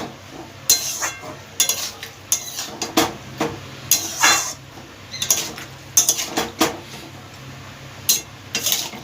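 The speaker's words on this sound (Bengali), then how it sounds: "কেটে রেখেছিলাম সেটা দিয়ে দিলাম আর দুটো চেরা কাঁচা লঙ্কা ভালোভাবে নেড়ে নেবো" A spoon clinks and scrapes against a pan as snake gourd, chopped onion and slit green chillies are stirred, with repeated irregular metallic knocks over a faint, soft background sizzle.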